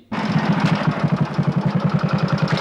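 Newly bought motorcycle engine running close by, a loud steady rhythmic chugging with even rapid pulses after a sudden start, no talk over it.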